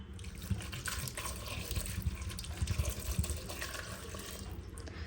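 Water splashes and gurgles steadily as it is poured into a cooker holding peas, potatoes and a little salt, close up and continuous with no speech.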